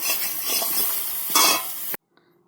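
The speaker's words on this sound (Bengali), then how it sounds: "আমার ফুলকপি ভাজা হয়ে গেছে" Cauliflower pieces frying in a pan, a dense close sizzle with stirring scrapes and a brief louder surge, cutting off abruptly into near silence with a faint clink.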